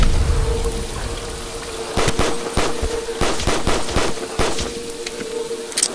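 Rapid gunfire bursts crackle through a Black Ops II zombies game on a custom Cargo map, short repeated volleys over a steady hissing background with no talk.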